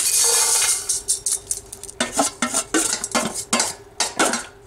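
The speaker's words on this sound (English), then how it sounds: "I'm just really just stir frying them in a dry cast iron pan" A metal utensil scrapes and clinks against a dry cast iron pan while toasting spices, in quick, irregular strokes, preceded by a brief hissing rattle.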